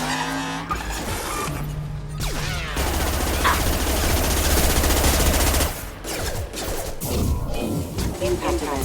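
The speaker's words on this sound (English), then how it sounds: "Firing a high-impact shot!" Rapid gunfire from a video game attack on a Collector ship, loud and sustained in bursts, layered with engine roar, explosions and combat effects, with a voice calling out over the action.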